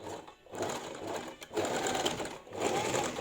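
A sewing machine runs a seam on a zippered cushion cover, its needle chattering rapidly in three close, loud bursts separated by short pauses, with no talking.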